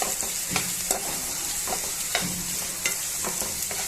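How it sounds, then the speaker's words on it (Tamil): Onion, green chilli and curry leaves sautéing in a pan for a Kerala-style tapioca snack, a steady sizzle broken by regular scraping stirs from a spatula, close and fairly loud with no talk. "பச்சை மிளகா, கருவேப்பிலை சேர்த்து நல்லா வதக்கிக்கலாம்."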